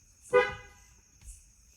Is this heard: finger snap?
no